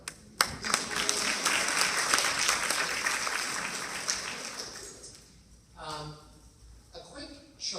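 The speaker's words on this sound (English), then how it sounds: "So please give yourselves a round of applause." Audience applause at an evening talk on children's anxiety, attention and learning, a dense sustained clapping that swells and fades over several seconds before a voice resumes speaking near the end.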